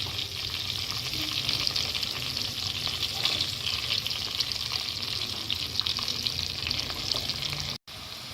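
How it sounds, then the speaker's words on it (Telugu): Vegetables frying in oil in a pan for a mixed vegetable curry give a dense, continuous sizzle, close and steady at an even loudness, broken by one brief cut near the end. "కొంచెం దోరగా ఫ్రై చేయండి"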